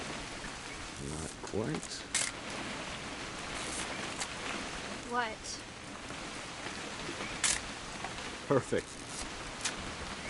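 Steady rain patters throughout a rainy scene in the video game What Remains of Edith Finch, a soft hiss that sits beneath brief exchanges of spoken dialogue.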